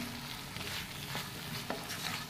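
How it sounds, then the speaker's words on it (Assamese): Potatoes frying in a pan for an Assamese sour fish curry with tomato, giving a steady close sizzle with light stirring scrapes throughout, no voices. "এতিয়া অকণমান 2 মিনিটমান ভাজি ল'ম"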